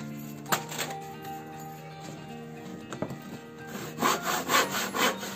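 A piece of wood is cut with a handsaw as a support for painting fishing lures is built, giving rough, rasping strokes with a few sharper knocks, close by and steady, picking up faster and louder toward the end.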